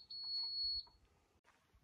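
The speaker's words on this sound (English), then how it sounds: "So when it's beeping slow like that, beep, that means you're too low." A measuring level indicator gives a single slow electronic beep, a steady high tone lasting under a second, followed by quiet with faint rustling.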